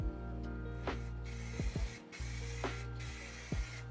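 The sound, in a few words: aerosol spray can spraying primer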